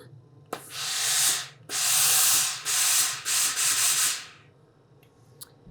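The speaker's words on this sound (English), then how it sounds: "All right, we're just going to press the seam." A steam iron presses a sewn seam on a knit dress, giving several long hissing bursts of steam separated by short pauses, close and fairly loud, with a soft thud before the first burst and no talking.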